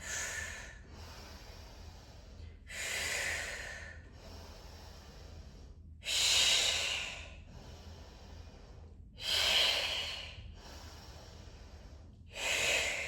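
Slow, audible breaths pace a mat Pilates workout, with four long, airy exhales in a regular rhythm and quieter, softer breathing between them, all close and without talk.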